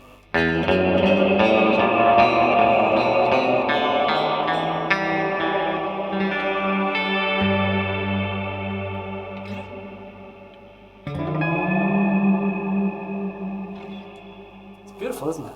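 Chords on an electric guitar played through a Strymon BigSky reverb pedal, lush and shimmering, with long washy tails that swell and decay, a fresh chord struck near the end.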